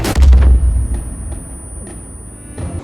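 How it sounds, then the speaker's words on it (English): A heavy, booming explosion in the video game Far Cry 5 opens loud and close, then decays into a rumbling tail with a few scattered distant pops and crackles. "Even the occasional death from spontaneous explosions like this."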